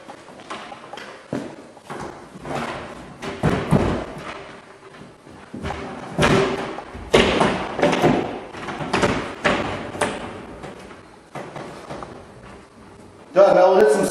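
Glass door of an EAGO DZ962F8 steam shower being fitted with its wheels into the track, giving irregular knocks, thuds and clunks close by, ending in a louder burst of noise.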